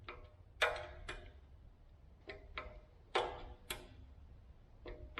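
Torque wrench on Chevy 350 short block bolts giving about six sharp, quiet clicks at uneven intervals over a low, steady background hum.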